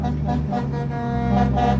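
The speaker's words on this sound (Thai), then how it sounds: "สัญญาณแตร" A vehicle horn blares in a sustained, brassy honk with slight wavering, loud and close, lasting just under two seconds.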